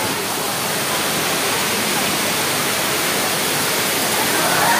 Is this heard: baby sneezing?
no